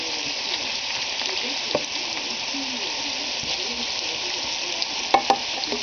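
Bacon frying in a pan gives a steady, close sizzle and crackle throughout, with a couple of sharp utensil taps near the end.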